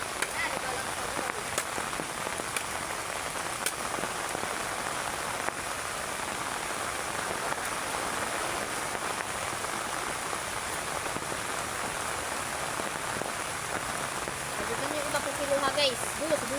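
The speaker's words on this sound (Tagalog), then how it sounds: "inabutan na tayo ng malakas sa ulan" Heavy rain pours steadily outdoors in the Philippine countryside while wood is being smoked, a dense constant hiss with brief voices near the end.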